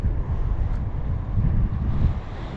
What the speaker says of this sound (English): Yeah, a bit windy